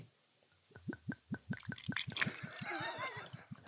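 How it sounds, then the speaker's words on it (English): Whiskey glugs from a freshly opened bottle into a glass in a rapid rhythmic series of close gurgles. The pour then settles into a softer trickling splash with little talk. "Do the pour. Do the pour."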